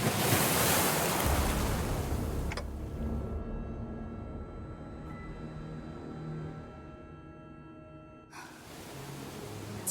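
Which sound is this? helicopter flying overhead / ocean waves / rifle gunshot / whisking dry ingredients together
ocean waves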